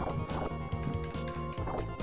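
A horse in the SNES game Knights of the Round, heard as a rhythmic clip-clop of hooves, brisk and evenly spaced, mixed with chiptune-style game music at moderate volume.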